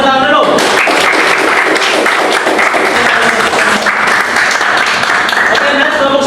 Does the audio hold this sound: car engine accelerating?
no